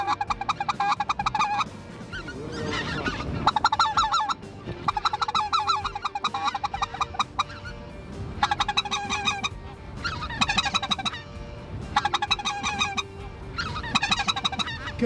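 Geese honking in bursts during a goose hunt, a loud flock of clamoring calls in repeated clusters with short gaps between them.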